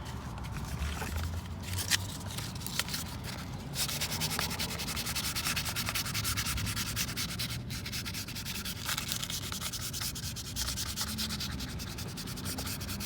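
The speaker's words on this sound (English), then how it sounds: "I'll step down to a lighter grit" Steady close sanding with a lighter-grit abrasive on curb-damaged 18-inch Tesla Model 3 alloy wheel, a continuous rough rubbing hiss that runs the whole time without breaks, alone with no voices.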